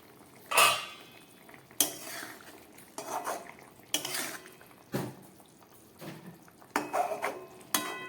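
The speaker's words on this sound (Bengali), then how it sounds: "চলুন এবার ঢাকাটা খুলে আপনাদের দেখাচ্ছি।" A pot of singi fish curry with vegetables is opened and handled, giving a series of close metallic clanks and scrapes of lid and spoon against the pot, spaced irregularly over a quiet background.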